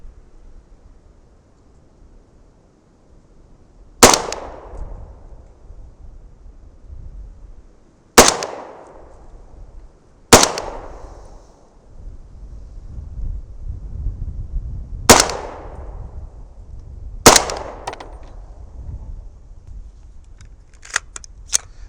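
Five sharp, loud reports from a 300 Blackout rifle firing subsonic loads with powder-coated bullets, spaced several seconds apart, each a crisp crack with a short decaying tail over faint outdoor background noise.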